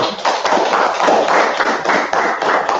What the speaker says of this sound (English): let's clap it up for the Most High.